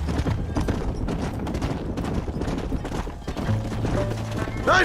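Horse hooves clip-clop in the Western video game Red Dead Redemption, a continuous rhythmic clatter of hoofbeats with game ambience and a brief whinny-like sound near the end.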